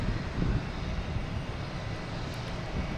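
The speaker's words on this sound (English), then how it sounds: "we have a Delta A321 coming in from Orlando" Delta A321 airliner arriving at Logan Airport, heard as a steady, distant broadband jet roar with no distinct peaks.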